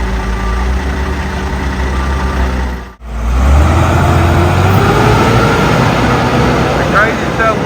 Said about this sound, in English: Another truck just got loaded with dirt and is having a hard time getting up the hill